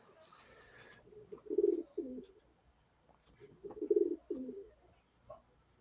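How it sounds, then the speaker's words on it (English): Pigeons coo softly nearby in two low, throaty bursts a couple of seconds apart, with a brief hiss at the very start and quiet background between calls. "the pigeons can't even believe it"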